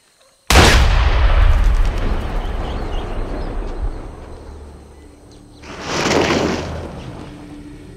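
A film gunshot cracks out loud and sharp, then rolls into a long booming decay, followed a few seconds later by a second, softer blast that swells and fades.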